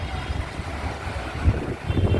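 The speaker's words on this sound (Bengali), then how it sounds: "প্রচন্ড হাওয়া দিচ্ছে, ঠান্ডা হাওয়া হয়ে গেছে" Strong, cold gusting wind ahead of the first Kalbaisakhi storm of the season, buffeting the microphone as a steady low roar with a stronger gust near the middle and more toward the end; no one speaks.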